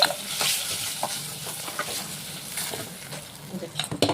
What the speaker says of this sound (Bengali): মাথাগুলো ভাজা হয়ে তুলে দেবো।